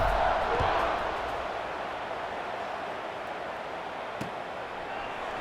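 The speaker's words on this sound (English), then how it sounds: "this crowd is buzzing after that last score" Stadium crowd noise from a college football video game, Jacksonville State at App State, a steady broad roar that swells at the start and then holds at a constant buzzing level with no distinct voices.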